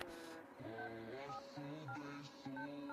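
A phone being dialed gives a quick sequence of distinct keypad tones, several short beeps in uneven rhythm, fairly quiet and close.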